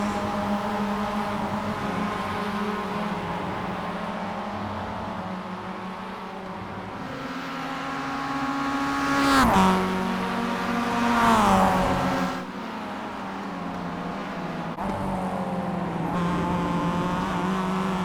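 Mazda MX-5 Cup race car engine at Virginia International Raceway, droning steadily with harmonic whine, rising and falling as it revs through gears, with louder surges and a passing car swelling midway; no talk.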